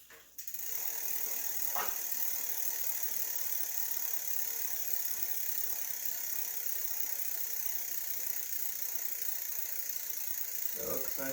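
A Jamis Ranger mountain bike's freshly lubed chain drivetrain whirs with a steady, fine mechanical ticking as it spins through the gears, close and continuous, with a sharper click near the start and another near the end.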